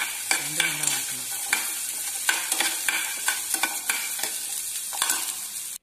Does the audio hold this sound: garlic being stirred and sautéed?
yes